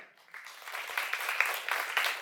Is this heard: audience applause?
yes